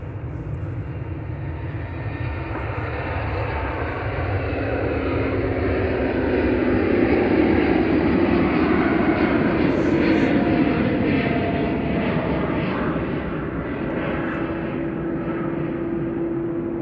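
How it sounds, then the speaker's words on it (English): An Ethiopian airliner departing Manchester Airport bound for Addis Ababa, a continuous broad engine roar that builds gradually and then holds, fairly loud and steady at a moderate distance. "Ethiopian departing, heading off to Addis Ababa via Geneva."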